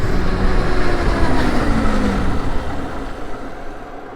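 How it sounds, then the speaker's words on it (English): A cooling fan whirs steadily on a high-powered dirt bike fitted with street wheels, a broad loud rushing hum close by that eases off slightly toward the end, with no talking. "You can hear the fan going."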